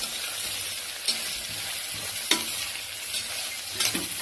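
A bitter gourd gojju mixture is stirred in a pan, with a steady low sizzle and soft scraping strokes recurring every second or so, including a few sharper knocks of the spoon against the pan, with no voices.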